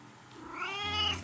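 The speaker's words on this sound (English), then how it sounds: "That's my cat." A pet cat meows close by, one drawn-out rising and falling call lasting about a second, with a low hum underneath and no talking.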